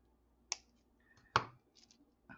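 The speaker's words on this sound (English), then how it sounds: "And then just cut off your excess wire." Wire cutters snipping off excess wire while making a beaded bracelet, two crisp close clicks about a second apart, then a softer third tick, in a quiet room.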